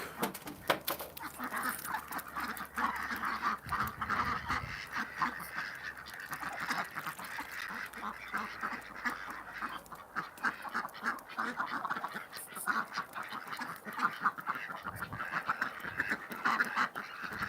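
A flock of farm ducks quacks and honks continuously while being fed grain on a very cold day, a dense busy chorus of overlapping calls close by with no talk.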